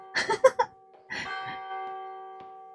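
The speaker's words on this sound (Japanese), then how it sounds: "ドアを閉じたら鐘が鳴るんだ" A bell rings once as a door is closed in the horror game Martha is Dead, set in wartime Italy, its clear tone lingering and slowly fading after a few short vocal sounds and a soft knock.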